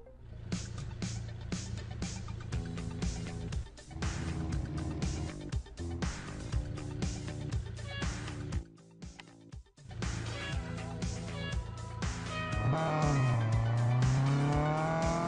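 Racing cars in the video game Real Racing roar continuously with engine tones and tire noise, loud and steady, with a brief dip mid-race and rising engine whine toward the end.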